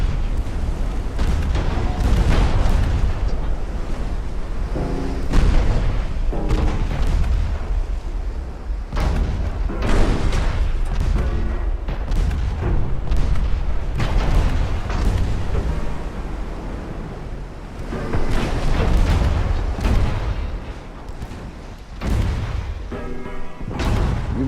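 Ammunition cook-off on a warship in the naval game Ultimate Admiral: Dreadnoughts: a long run of heavy booming explosions and blasts, repeated and irregular, loud and rumbling with dense low-end thuds.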